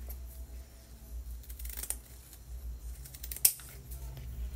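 Scissors trim the ribbon ends of a coquette bow: two short, crisp snips, the second louder and sharper, close by against a quiet background.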